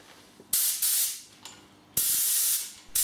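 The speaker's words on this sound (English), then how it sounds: "I don't know what pressure the blower is to be used at, so for now I just used it at low pressure" Clarke Ranger air compressor blower gun releasing air at low pressure in three short bursts, each a bright hiss that starts abruptly and tapers off, separated by quiet gaps with a faint click between.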